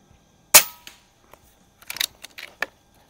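An Air Venturi Avenger air rifle fires a heavy JTS Dead Center pellet in one sharp, loud crack near the start, followed by a few fainter clicks and handling taps.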